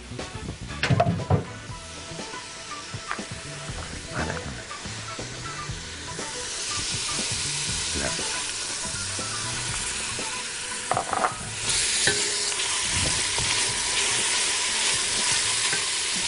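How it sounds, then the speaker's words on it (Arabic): Onions sautéing in Egyptian country ghee in a pan, a steady sizzle broken by the scrape and clatter of stirring, growing into a brighter, louder hiss partway through. "بشوح البصل كويس قوي"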